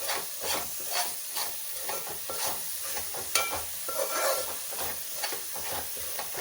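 Masala for a Godavari-style pulasa fish curry fries in a pan, a continuous sizzle under rhythmic scraping strokes of a stirring spoon, moderately quiet with no voices.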